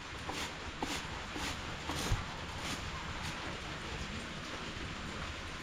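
Rain patters steadily and fairly softly onto surfaces nearby, a continuous hiss broken by a few sharper drips and taps, with no speech.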